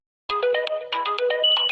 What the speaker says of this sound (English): Oh Lord, why my phone gotta be ringing?